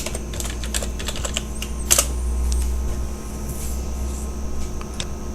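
Computer keyboard typing mixed with mouse clicks while modelling a shield in Blender 3D 2.78, a steady run of close, crisp taps over a low constant hum with no talking.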